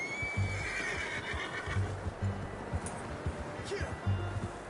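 A horse in Red Dead Redemption 2 gives a high, descending whinny near the start, followed by snorts and low rumbling game ambience with voices mixed in.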